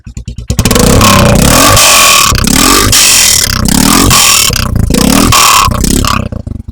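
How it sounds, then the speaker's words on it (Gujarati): A motorcycle fitted with a Red Rooster exhaust starts up and is revved hard. It gives a loud, booming, throbbing roar up close that rises and falls through several throttle blips before dropping back at the end, with no talking. "એક્ઝોસ્ટ રેડ રૂસ્ટરનું છે મિત્રો એક્ઝોસ્ટ, જેનો અવાજ બહુ જોરદાર છે"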